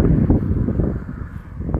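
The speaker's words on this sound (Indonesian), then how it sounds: "Jadi mohon maaf kalau suaranya anginnya agak kuat ya." Strong wind buffets an unshielded microphone outdoors in a village, a loud, continuous low rumble and thudding that fills the whole short stretch with no talk.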